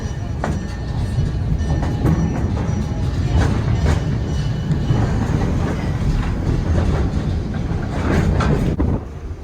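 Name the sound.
train riding on old Southern Pacific track, Wheeler, Oregon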